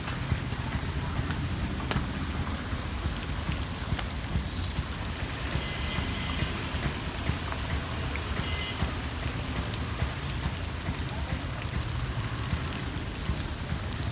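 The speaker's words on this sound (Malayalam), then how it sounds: "ഇന്നലെ രാത്രി തുടങ്ങിയ മഴ ഇതുവരെയായിട്ടും നിന്നിട്ടില്ല" Steady, dense monsoon rain in Kerala hisses without a break over flooding paddy fields, a constant wash of noise with a low rumble underneath.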